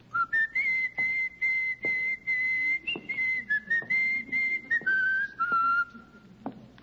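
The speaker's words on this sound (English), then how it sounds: "The whistling. Oh, just whistling." A person whistles the Marine hymn tune, a clear, close melody of sustained and stepping notes with brief breaks between phrases, alone with no talk.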